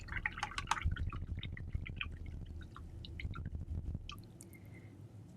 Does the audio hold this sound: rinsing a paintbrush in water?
yes